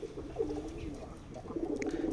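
Homing pigeons in a cage give soft, low, rolling coos, faint and close, a couple of murmuring calls in quiet surroundings.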